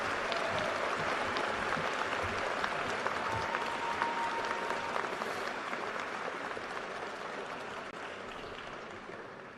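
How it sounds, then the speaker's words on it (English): A high school graduation audience applauds in a large hall, dense, sustained clapping that holds steady and slowly fades toward the end, with occasional faint cheers. "Let's give them a big round of applause."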